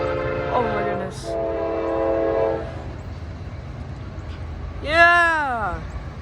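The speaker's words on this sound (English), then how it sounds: "Oh my goodness, yo, we have a train race." Norfolk Southern intermodal freight trains run side by side, a multi-tone horn sounding briefly early on and again loudly near the end over a steady low rumble of rolling cars, with excited voices talking.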